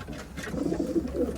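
Racing pigeons coo softly and steadily at close range in a loft, a low rounded burbling that rises and falls in overlapping phrases with no speech.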